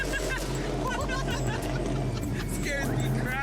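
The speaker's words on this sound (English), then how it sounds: "we got a bunch of loud race cars coming by" Loud race cars rolling past in a neighborhood birthday parade, a continuous heavy engine rumble close by with higher revving whines rising over it, while people talk and chatter throughout.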